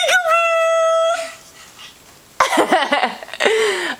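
A dog lets out one long, loud howl lasting about a second, close by, then it goes quiet before a burst of shorter, choppy vocal sounds follows.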